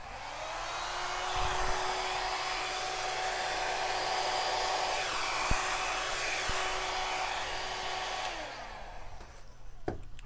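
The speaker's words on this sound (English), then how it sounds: "Maybe I'll take the blow dryer and see if I can't get just a few more of the color out there." A blow dryer whirs steadily at close range for several seconds, then shuts off, leaving a few faint clicks and rustles.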